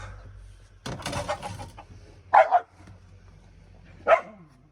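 A few sharp dog barks ring out in separate bursts at a chicken coop, a short cluster of two and then a single bark, with rustling noise beforehand.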